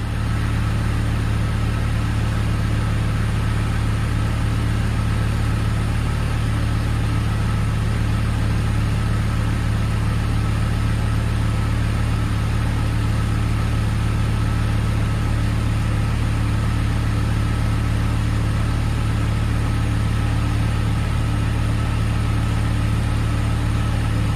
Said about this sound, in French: on lève la voiture moteur tournant